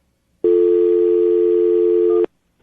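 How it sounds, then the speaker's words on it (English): A telephone line gives off a steady electronic tone while a number is dialed, a loud continuous hum that starts abruptly, holds for about two seconds, then cuts off, with no voices. "I'm going to dial the number right now"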